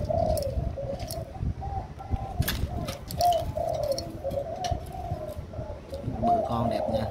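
Several caged spotted doves coo in repeated soft, throaty phrases, close and steady throughout, with a faint voice and scattered clicks in the background.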